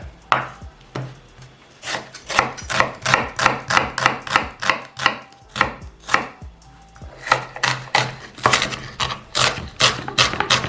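Vegetables for a creamy pumpkin soup being sliced with a knife on a cutting board, close and loud, a fast even rhythm of sharp chops with a brief pause midway.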